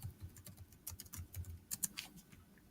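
Keys tapping on a computer keyboard, quick irregular clicks and short bursts at a quiet, close level, as a place name is typed into a map search box, with no speech.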